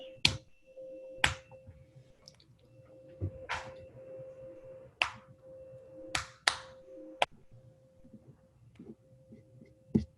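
A student claps a rhythm for a music theory class, sharp close claps spaced irregularly across the clip with quiet gaps between, heard over a faint steady tone from an online call.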